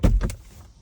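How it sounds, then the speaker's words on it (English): A 2024 GMC Acadia car door closing, a short close thud followed by a brief second knock, then quiet. "open the door"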